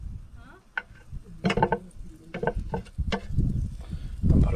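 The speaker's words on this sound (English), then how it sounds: "just a little bit of butter on the pan" A little butter sizzles in a hot pan with close, irregular crackles and soft clicking pops over a low rumble; no one talks.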